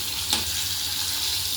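Food crisping as it fries in hot oil, a continuous close sizzle with one brief sharp crackle near the start.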